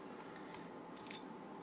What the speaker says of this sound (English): put one biot down one side, catch it in, and I'll just rip that bit off.